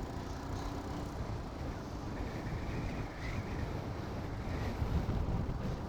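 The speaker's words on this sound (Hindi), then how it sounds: "हवा यहाँ पे बहुत तेज चलती है।" Strong wind roars continuously at a high mountain pass on a bike ride between Chandratal and Manali in Spiti. The loud, steady rush buffets the microphone throughout.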